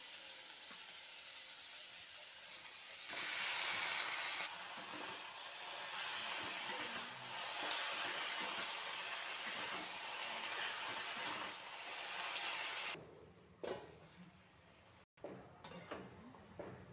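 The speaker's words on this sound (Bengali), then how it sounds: "এবার এর মধ্যে আমি শাকটা দিয়ে দেব।" Bottle gourd greens go into a pan of cooked vegetables for a vegetarian lau shak chorchori, with loud continuous sizzling and stirring rasps, ending in quieter scattered clinks of a utensil against the pan.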